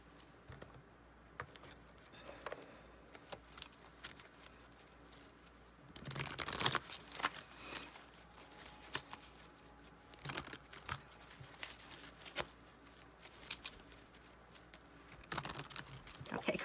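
Tarot cards being shuffled by hand, with soft papery riffles and bursts of crinkly rustling coming in clusters, near and fairly quiet, with no talking.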